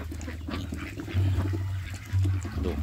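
Ducks on a Thai duck farm give repeated low, nasal quacks close by, with two louder bursts standing out over a continuous noisy backdrop of splashing water.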